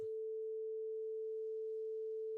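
Sine wave test tone passed through an API Lindell 50 channel strip plugin, a single pure steady hum held at constant level for the whole stretch, clean and alone with no other sound.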